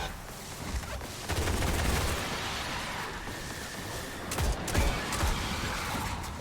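Heavy machine gun in a video game fires in dense, sustained bursts, with loud rattling gunfire and booming impacts throughout, swelling around the middle and continuing without talk.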